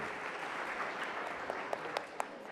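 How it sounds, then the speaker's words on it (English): Conference audience applause at a medical undergraduate research session, a soft, even wash of clapping from a distance with a few sharper, closer claps near the end. "So big clap for the Biomedical Institute."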